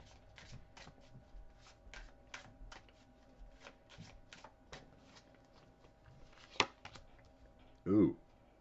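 Tarot cards shuffled by hand in a rapid run of crisp riffling flicks, fairly close, followed by a louder thump near the end.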